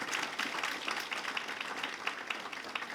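An audience applauds at a human rights chair inauguration event, steady dense clapping at moderate volume from a crowd, with faint talk mixed in.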